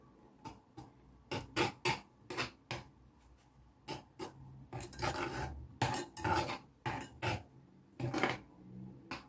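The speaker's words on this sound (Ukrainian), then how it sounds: "Перемішую" A spoon scrapes and stirs sugary glaze in a bowl for a Ukrainian Easter paska, in a series of short, close, quiet rasping strokes at an uneven rhythm, with no voices.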